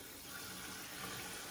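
Cold tap water runs steadily into a sink for washing chicken wings, a faint, even hiss and gush with no break.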